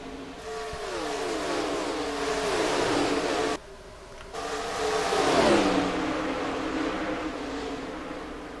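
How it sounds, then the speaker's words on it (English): Several stock cars run four wide and bump each other in an online racing game at Nashville. Their engines drone loudly together, pitch sliding down and climbing again, with a brief dip in the noise partway through. "Cars scrambling everywhere."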